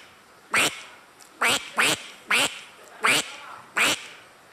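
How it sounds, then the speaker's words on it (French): A bird by a river gives six loud, sharp, nasal calls, each short and spaced about half a second to a second apart, close by and standing out clearly over quiet background noise. "Et il y a un oiseau qui appelle gaz"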